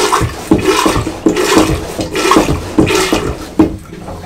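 A hand-pumped marine toilet aboard a 2015 Bavaria 46 Cruiser sailboat, giving repeated rhythmic gurgling, sloshing strokes about every half second, close and fairly loud with no other sound.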